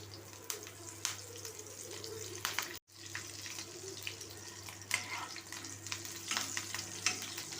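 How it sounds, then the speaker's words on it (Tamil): Mustard seeds and cumin fry in hot oil in a pan for carrot rice, making a fairly quiet, steady sizzle with scattered crackles and a low hum underneath. "இப்ப கடுகு சீரகத்தை சேர்த்துக்கலாம்."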